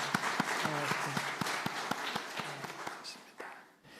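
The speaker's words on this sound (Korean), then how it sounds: "박수해 주시기 바랍니다." A church congregation applauding during a Sunday worship service, a close crowd of hands clapping with distinct sharp claps over a dense patter, fading out at the end as a voice returns.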